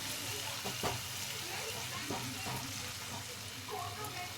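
Masala frying in oil in a pan, a steady close sizzle that runs throughout, with occasional stirring scrapes.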